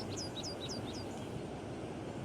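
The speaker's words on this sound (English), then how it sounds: "birds singing to stake territory while trying to lure in a potential breeding partner" Oregon Vesper sparrows sing in spring in southwestern Oregon, a short run of repeated bright descending notes, faint and some distance off, over a steady low background rumble.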